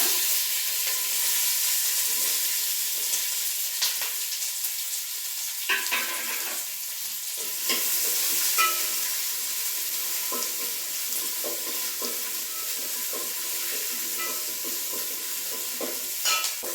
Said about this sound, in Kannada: ಬೆಳ್ಳುಳ್ಳಿ ಹಾಗೆ ಶುಂಠಿನ ಈಗ ಎಣ್ಣೆಗೆ ಹಾಕಿದ್ದೀನಿ